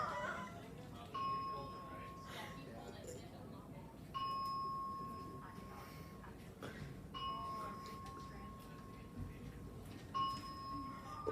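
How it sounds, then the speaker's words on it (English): A hospital fire alarm sounds in repeated, steady electronic bell tones at a moderate distance, the pattern recurring several times while people talk nearby. "You can hear the bell."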